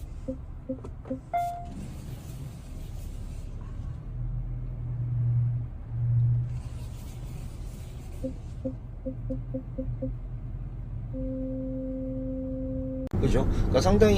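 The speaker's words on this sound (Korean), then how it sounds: "그래서 이 녀석이 주차할 때 주차 보조음도 좀 변경됐어요." Parking assist tones from a Genesis GV70 SUV: short repeated beeps in quick clusters, then a steady held tone, over low cabin rumble, ending with a burst of noise.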